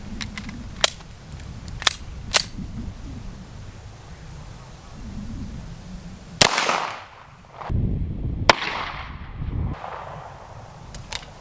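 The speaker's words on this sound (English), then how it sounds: "let's step up to a 9mm, see what that does" Gunshots from a 9mm Beretta 92S firing 124 grain full metal jacket rounds at a Kevlar helmet: a few sharp distant cracks, then two loud close booms with rumbling tails, under faint background chatter.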